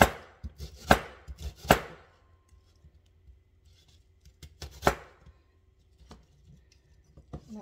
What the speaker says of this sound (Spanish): voy a picar la cebolla